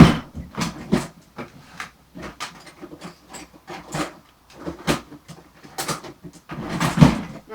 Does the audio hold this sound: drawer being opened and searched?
yes